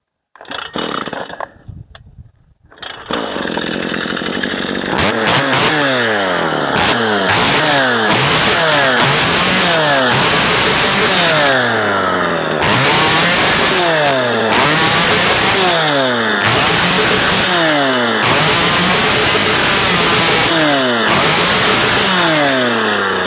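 A Stihl 181c chainsaw with a freshly cleaned, repaired carburetor is pulled a few times, catches and then runs loud and close, revving up and down steadily with no talk.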